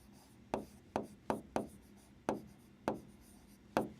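Pen strokes on paper while working a coordinate geometry maths problem, seven short separate scratches at an irregular pace, close and fairly quiet, with no talking.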